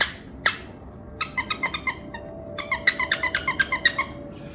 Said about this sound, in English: my one puppy goes to playing with this toy and biting on it and making it squeal